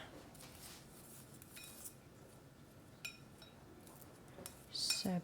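A small spoon picked out from among cutlery, with faint, sparse clinks and a brief burst of metallic jingling near the end in a quiet room.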